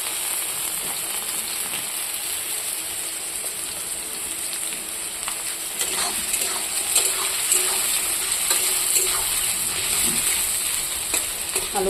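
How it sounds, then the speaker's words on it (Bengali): Potato pieces and onions frying in a pan with oil, giving a steady crackling sizzle throughout that grows a little louder and busier partway through, with scattered sharp pops and no talking. "আলু পেঁয়াজের সাথে ভাজা করে নেব।"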